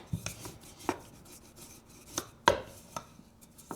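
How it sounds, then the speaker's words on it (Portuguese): A pizza cutter slices pastel dough on a kitchen countertop, giving a few separate short scraping cuts with quiet gaps between them, close and fairly soft. "Aí eu uso esse cortador aqui, porque dele não arranha a bancada."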